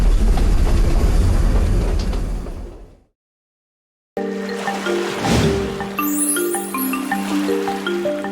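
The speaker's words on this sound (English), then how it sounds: "We came for the tea train." The tea country train from Kandy to Ella in Sri Lanka rumbles loudly, then a second of silence, then a carriage interior with steady humming drone, clattering rails and rattling fittings.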